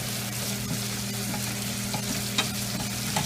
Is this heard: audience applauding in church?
no